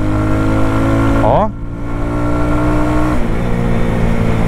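A Shineray Worker Cross 150 carbureted motorcycle ridden at a steady pace, its engine drone loud and continuous, with a brief dip and pitch sweep partway through as it shifts gear.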